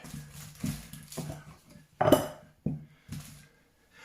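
A metal muffin tin clanks and rattles in a kitchen, several distinct knocks and scrapes spread over a few seconds, one sharper bang in the middle, fairly quiet and close.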